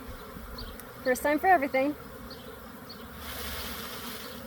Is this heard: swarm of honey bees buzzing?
yes